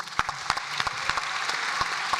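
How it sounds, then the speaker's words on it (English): Audience applause for a panel at a Bitcoin conference, crisp individual claps from a modest crowd over a steady wash of clapping, close and lively for a couple of seconds. "Round of applause, please, for the panel."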